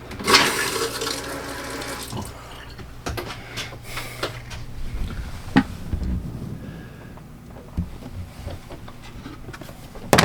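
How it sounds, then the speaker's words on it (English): Water rushes back into an RV's plumbing after a winterizing repair, a steady broadband hiss of flow through pipes and fixtures with a few sharp knocks and clunks scattered through it, close by and with no one talking. "Customer's gonna cut the water back on."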